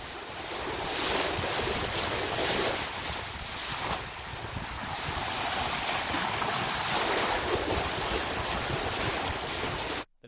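Strong wind roars steadily across the microphone while waves rush and slosh against a sailboat's hull on a passage in Juan de Fuca Strait, with a constant loud wash that continues until the end.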